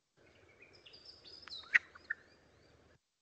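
Regent honeyeater song from a Blue Mountains recording: thin whistled and squeaky notes with a couple of sharp louder chips, faint over a low background hiss.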